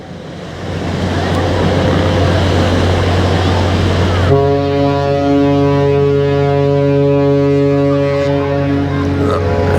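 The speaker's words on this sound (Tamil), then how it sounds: "இந்த சனம் வந்து கோன் அடிக்கிறது" Large ships' horns blast in Rotterdam port, a deep sustained blare from about four seconds to the end over steady engine rumble and wind.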